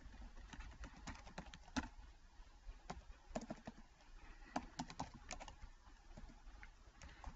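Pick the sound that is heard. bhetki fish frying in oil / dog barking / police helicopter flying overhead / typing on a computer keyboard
typing on a computer keyboard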